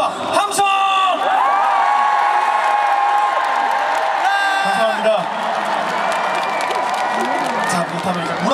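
A large crowd at the 2022 Gyeonggi provincial sports festival opening ceremony in Yongin claps, whoops and cheers loudly and steadily for several seconds.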